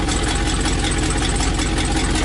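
An old RV engine idles steadily with a dense, broadband rumble and slight knocking texture, continuous and close, without speech.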